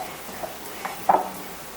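Salmon patties frying in a pan give a faint steady sizzle with a few light clicks and taps of a utensil, nobody talking.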